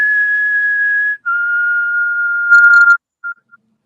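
A Negan cosplayer whistles a short tune up close: two long sustained notes, a brief warbling phrase, then two tiny trailing chirps, loud and clear against silence.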